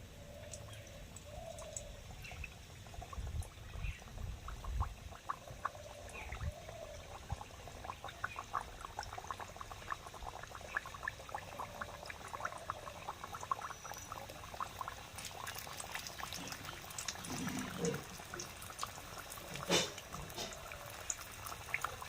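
Nimki pastries dropped into lightly heated white oil in a karahi, giving an ongoing bubbling sizzle with scattered crackles and pops that swell and fade over about twenty seconds, no voices.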